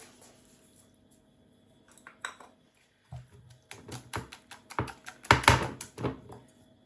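Eggs being beaten with salt in a bowl for an omelette Poulard: quiet at first, then irregular bursts of sharp clinking strokes that grow louder and quicker toward the end.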